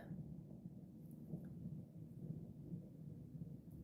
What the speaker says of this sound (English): what is that? Is that Clouds and Thunder? That doesn't sound like a car.